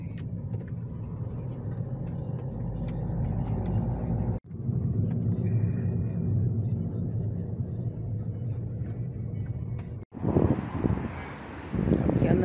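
Car interior on the road, a steady low engine and tire rumble with wind noise that runs continuously, broken by two brief dips, while people talk over it.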